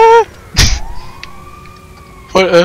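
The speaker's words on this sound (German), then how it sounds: "Oh, ein Krankenwagen." Ambulance siren in the GTA 5 Online game, a loud wailing tone rising and holding steadily across the scene, broken by short bursts of game noise and a thump, close and prominent.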